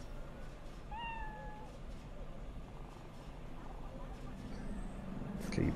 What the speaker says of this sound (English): Can you pet the cat in Cyberpunk?